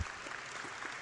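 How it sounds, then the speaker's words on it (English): An audience at a distance running talk claps in a steady, even wash of applause, fairly faint and continuous without voices over it. "First round of applause for Barbara."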